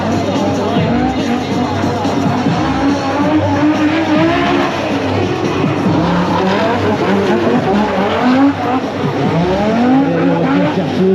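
Toyota AE86 throwing itself through a gymkhana run at a French F1 Grand Prix, its engine revving hard with tire squeal and skids layered in, loud and continuous, while excited commentary runs over it.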